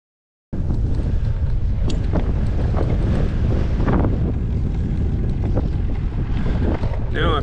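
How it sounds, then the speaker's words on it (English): Heavy, steady wind buffeting a microphone on a fall bike ride, a loud continuous low roar with gusty swells that fills the whole stretch after a brief silent start. "the wind kicked up, right as I was getting ready to say something."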